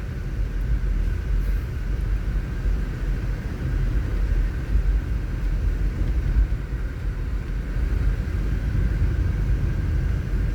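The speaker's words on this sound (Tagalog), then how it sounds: "unti-unti nang dumadami yung sasakyan sa kalsada mga ka-drive" Steady car traffic on EDSA heard from inside a moving vehicle, a continuous loud low road rumble and engine drone with no distinct events or talking.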